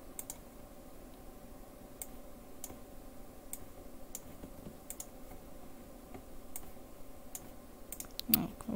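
Computer clicking during coding in Scratch, a series of faint, sharp, scattered clicks over a low steady hum of background noise, with no talk.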